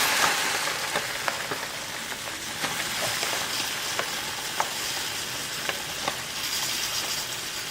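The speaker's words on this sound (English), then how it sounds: "so now I'm going to add in my rice." Steady hissing and bubbling of boiling water as rice is added, with a dense, crackling texture and faint scattered clicks, with no voices.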